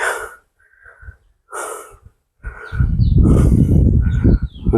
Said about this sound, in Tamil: இருபது படி கூட ஏறல, மூச்சு வாங்க ஆரம்பிச்சு